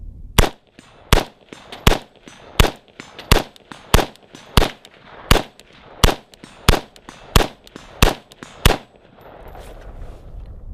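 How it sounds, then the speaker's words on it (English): Rifle fire from an AK-47 and an AR-style rifle at a target: about fourteen sharp, loud single shots at a steady rhythm, roughly one every two-thirds of a second, each with a short echoing tail, then quiet outdoor ambience. "Shoot through the crook."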